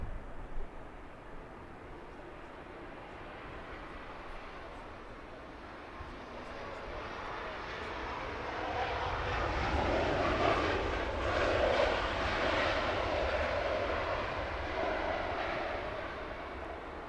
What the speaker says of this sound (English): Next up, the retro British Airways.